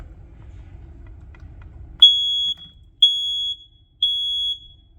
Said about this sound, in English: Universal Security Instruments Smoke, Fire, and Carbon Monoxide Alarm.